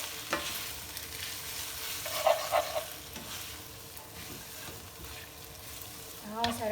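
Pasta puttanesca is tossed and stirred in a hot pan, with scraping and light sizzling in a few short bursts and a louder clatter near the end, all fairly soft and without speech.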